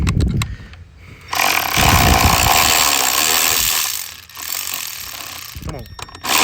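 A ratchet tightens bolts while a catch can is installed on a Ford F150 5.0, giving short bursts of rapid, loud, close clicking separated by brief pauses.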